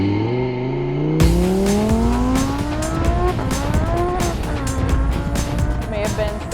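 A boosted Lamborghini accelerates hard on a test drive. Its engine note climbs steadily through the gears, loud and close, with a sudden burst of roar partway through and people talking over it.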